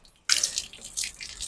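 Water sprays from close range onto the dirty grille of an air conditioner's outdoor unit during cleaning. The hissing splash starts abruptly after a brief silence and keeps going in uneven surges.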